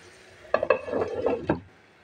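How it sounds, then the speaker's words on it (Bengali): A lid clatters onto a frying pan of rice-flour and besan-coated aubergine slices cooking in very little oil, a few quick metallic clinks and scrapes close by, with no talk. "এখন আমি আবার এটাকে ঢাকনা দিয়ে দেবো"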